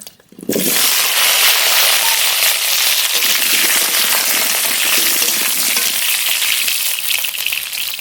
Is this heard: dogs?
no